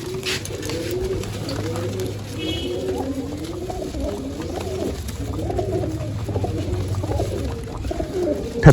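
Many pigeons coo continuously in a steady chorus of low, warbling calls close by, with a faint background murmur.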